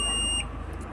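A multimeter in continuity mode gives a single steady, high beep of about half a second while probing a DTH receiver transformer coil, then cuts off, leaving only a low background hum.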